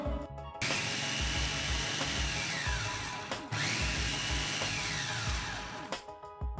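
A Mitochiba CH200 food chopper with six blades grinds mushrooms and tempeh without added water, its motor whirring loud and close in a continuous run, with a brief stop and restart midway.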